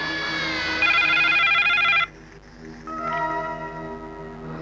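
A phone rings loudly in a dramatic film scene, a harmonic electronic tone sounding in two bursts separated by a short pause, with no talk over it.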